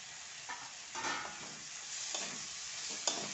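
Chopped dill leaves frying in a pan, a soft steady sizzle broken by several scraping stirs of a spoon against the pan, fairly quiet and close with no voices.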